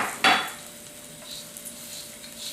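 Brief scrape of a spoon against a pot while an orange juice sauce for orange salmon with garlic and ginger is stirred, followed by a faint simmering hiss with no talking.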